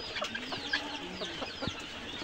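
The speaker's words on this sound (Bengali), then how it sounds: "আমার এখানে খাঁচায় কিন্তু কয়েকটা মুরগি আছে" Several caged desi chickens clucking softly and irregularly close by, short overlapping calls over a low background hum.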